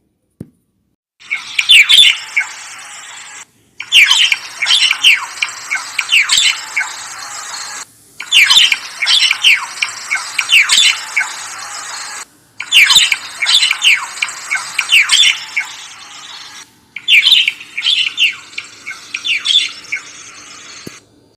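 A Java sparrow, the rare rice bird, filmed in Delhi, gives loud, close, squawking and squealing calls in five busy bursts separated by short silent gaps.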